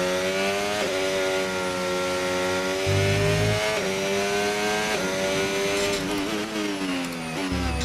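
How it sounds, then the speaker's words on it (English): Formula One race car in the F1 25 video game with its ride height set very low, scraping the ground: a loud, continuous high-pitched engine whine shifts with revs, broken by a few deep low thumps. "you hear the car bottoming out because the ride height is set super low"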